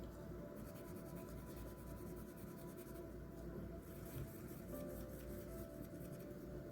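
A Pentel Mattehop pen scratches and rubs steadily across origami paper, a close, continuous dry scraping with rhythmic stroke texture and no talking.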